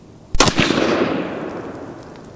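A single sharp, loud rifle shot from a Sig Cross in .308 Winchester fires during accuracy testing with factory ammunition, followed by a long rolling echo that fades over a couple of seconds outdoors.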